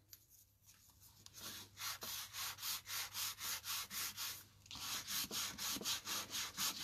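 A bone folder rubs firmly over a folded paper flap on a tissue gift card, making a steady run of rhythmic scraping strokes, close and fairly quiet, with no voices.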